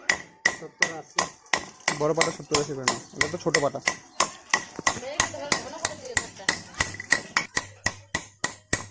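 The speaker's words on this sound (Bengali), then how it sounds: "শিলপাটা ধার এসেছে, শিলপাটা ধার।" A stone grinding slab (shil-pata) is being sharpened by hammering: a steady run of sharp, close metal-on-stone taps about three per second continues throughout, while people talk over it for part of the time.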